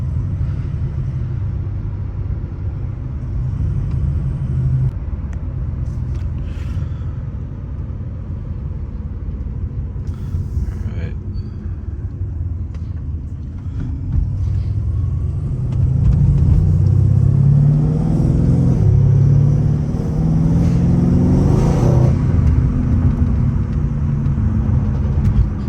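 A Stage 2 Mercedes C63 engine rumbles deep and loud from inside the car, holding a low idle-like drone before swelling into a heavier, throatier acceleration in the second half.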